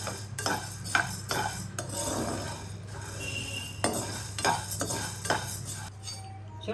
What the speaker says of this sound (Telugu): ఇలా కలుపుకుంటా ఉంటే అన్నీ జొన్నలన్నీ సమానంగా ఉంటాయి